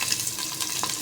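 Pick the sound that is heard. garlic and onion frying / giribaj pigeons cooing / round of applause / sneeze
garlic and onion frying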